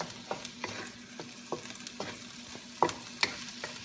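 Vegetables stirred into Japanese fried rice in a pan: a soft steady sizzle with repeated distinct scrapes and taps of the spatula against the pan, close up and with no voices.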